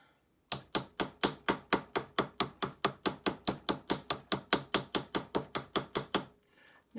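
A hammer strikes a tube rivet set in acrylic about two dozen times in a fast, even rhythm. Each sharp, close knock rings briefly, and the strikes stop abruptly near the end.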